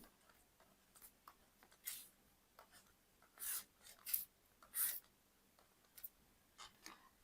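Pen or pencil writing by hand on paper while working through a law exam answer, a series of short scratchy strokes with quiet pauses between them, close and fairly soft, with no talking.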